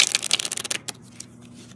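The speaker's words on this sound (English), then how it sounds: "So I'll just shuffle the deck just to make sure they're all randomized." A deck of playing cards being shuffled, with a rapid run of crisp, close riffling clicks for under a second that cuts off into a few faint taps and quiet.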